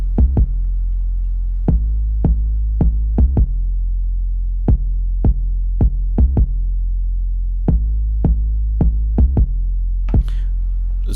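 Soloed 808 drum beat from the Ill Mind 808 kit in Maschine, with booming kick hits and sharp clicks in an uneven hip-hop pattern, loud and dry, with no voice.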